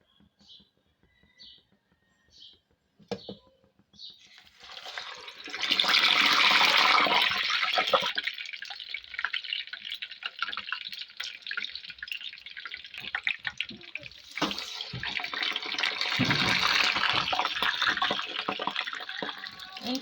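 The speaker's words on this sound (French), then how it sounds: "on les trempe dans cette eau et on les frit pour la deuxième fois" Banana pieces, already dipped in water, go into hot oil for a second frying. Quiet drips give way to a loud, sustained sizzle and crackle that keeps going to the end.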